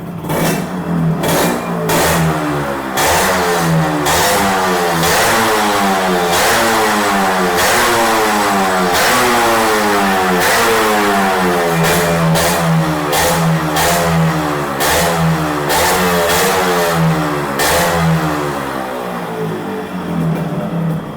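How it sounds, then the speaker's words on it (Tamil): A fully customized and restored Yamaha RX 135 two-stroke motorcycle, revved hard and repeatedly up close, its loud, sharp engine rising and falling in rapid swells with no break for over twenty seconds. "நான் ரேவ் பண்ணி காமிக்கிறேன்."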